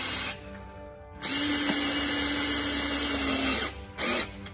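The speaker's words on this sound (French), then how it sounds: "Deuxième vis, on visse." A power drill drives a deck screw into a wooden deck board, its motor whining steadily for about two and a half seconds between short bursts, close and loud.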